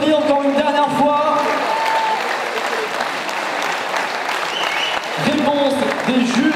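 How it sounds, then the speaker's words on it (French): A boxing gala crowd in Orthez applauds the fighters around the ring with steady, loud clapping that holds throughout, while voices surface over it at the start and end. "Allez, on les applaudit encore une dernière fois."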